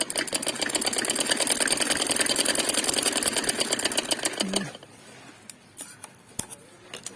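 A sewing machine runs steadily for about four and a half seconds, stitching around a plain cut kameez neckline, then stops, leaving faint handling clicks and taps close by.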